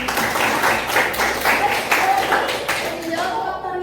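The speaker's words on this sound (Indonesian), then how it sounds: "Baik, tepuk tangan lagi." Classroom applause from students, a burst of lively clapping close by, mixed with murmuring voices and tapering off at the end.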